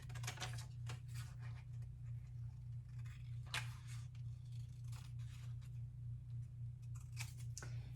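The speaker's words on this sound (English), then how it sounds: "So now that it's colored in, we're going to cut it out." Scissors snipping around a colored paper penguin cutout, a series of short crisp cuts in irregular bursts close by, over a steady low electrical hum.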